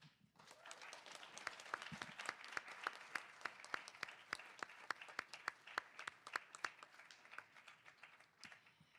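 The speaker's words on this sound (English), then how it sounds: "Let's give them another round of applause." An audience applauds panelists at a policy forum in Washington, D.C., sharp individual claps ringing out over a steady wash of clapping that lasts several seconds before tapering off.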